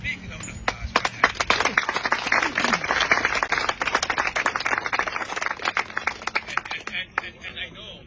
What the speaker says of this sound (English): So let's give yourself a big round of applause for that.